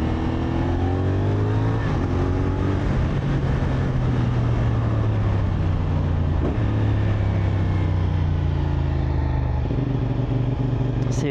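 A CFMOTO SR450 motorcycle engine revs and pulls through the gears nearby, loud and continuous, its pitch climbing and dropping with several shifts and throttle changes, with brief speech over it.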